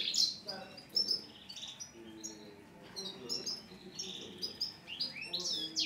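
Goldfinches sing in bright, quick chirping and twittering phrases, close and clear, with short pauses between bursts and faint background murmur beneath.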